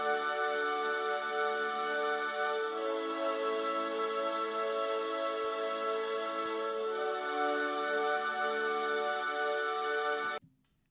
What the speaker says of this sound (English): it's this very airy choir pad